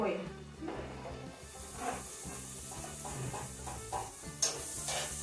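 Chopped onion frying in melted butter in a pan over low heat, giving a steady soft sizzle with stirring scrapes and a few light utensil clicks throughout.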